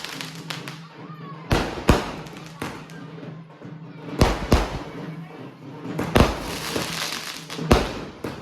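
Diwali firecrackers burst outside a home after the evening lamps are lit, a series of sharp, loud bangs at irregular intervals, some close and some farther off, over a steady background murmur.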